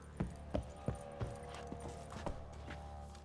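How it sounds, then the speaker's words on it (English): Horses shuffling and stepping in a stable within the video game The Witcher 3, a handful of soft hoof thuds and clops spaced irregularly over a low ambient hum, fairly quiet and without talk. "Plenty of horses though"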